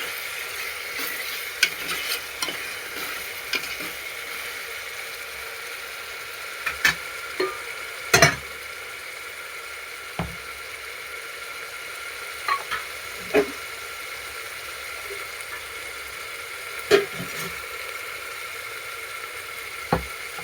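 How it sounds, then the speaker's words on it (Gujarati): Corn curry gravy sizzles softly in a pan for a dhaba-style Gujarati makai nu shaak while a spoon stirs it, giving scattered scraping clicks over the quiet, steady frying. "હવે આપણે ગ્રેવીને એકવાર મિક્સ કરી લઈએ આ રીતનું।"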